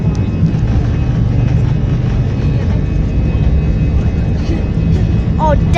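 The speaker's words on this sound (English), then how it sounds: "Guys, I'm recording takeoff." An airplane taking off produces a loud, steady, unbroken roar that fills the whole stretch, with some voices faintly underneath.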